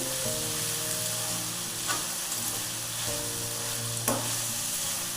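Vegetables and tomato sizzle in a pan for upma, a steady close frying hiss with a few soft stirring scrapes and a faint low hum underneath, no voices.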